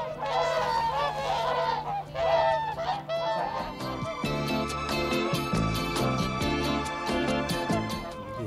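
Loud, overlapping honking calls of whooper swans, steady and continuous throughout, like a busy flock calling close by.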